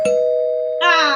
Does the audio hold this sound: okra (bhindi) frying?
no